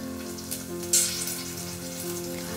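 A large chopped tomato sautés in a hot pan, giving a steady, moderately quiet sizzle with one brief sharper spatter about a second in. No voices.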